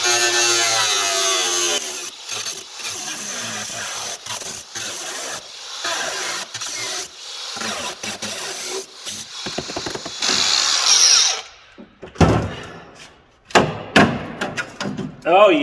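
A power tool cuts rusted metal out of a vehicle tub, loud and close, grinding in long harsh stretches broken by short pauses, with later bursts of scraping and clattering.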